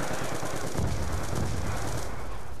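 M8A1 rifle firing in a zombie-survival video game, a dense rapid burst of gunfire that stays loud and unbroken throughout, with no voices over it.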